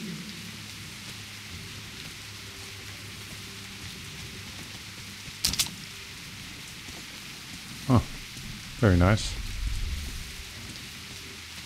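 Steady rain falls across a ruined ghost town in Metro Last Light Redux, a constant hiss under a few sharp louder game effects near the end, with a man's brief remark.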